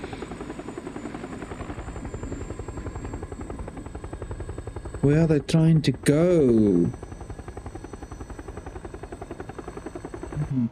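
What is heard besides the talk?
helicopter flying in the video game PUBG Battlegrounds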